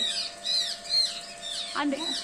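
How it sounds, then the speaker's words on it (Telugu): A small sparrow chirps and squawks in short, high, repeated calls close by, several quick notes in a row with a steady low hum beneath. "అయ్యే ఇంకొక పిచ్చుకొచ్చింది."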